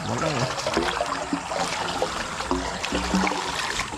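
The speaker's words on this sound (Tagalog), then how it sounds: "Nanggagaling ang malakas sa atin tubig." A strong flow of irrigation water pours steadily while watering a string bean plot, a continuous rushing wash heard up close, with people talking over it.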